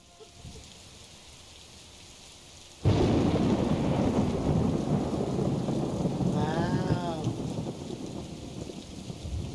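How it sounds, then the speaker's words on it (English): In a video game, a sudden loud crack of thunder breaks in, followed by heavy steady rain pouring down; a voice briefly exclaims in surprise. "Raining in 2 directions."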